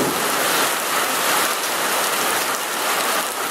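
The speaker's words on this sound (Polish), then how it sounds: "Jak widzicie, pada grad" Hail pounding down during a storm at Wisła Czarne, a dense, loud, steady hiss of countless hard impacts that continues unbroken with no voices.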